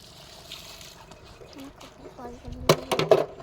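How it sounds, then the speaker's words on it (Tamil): Water being drawn from a well near a seaside mosque, with a few faint trickles and then louder splashing and pouring toward the end, while a voice talks over it. "இப்போ நாங்கள் உங்களுக்கு தண்ணி எடுத்து காமிக்கிறேன்"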